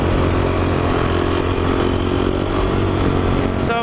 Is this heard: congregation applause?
no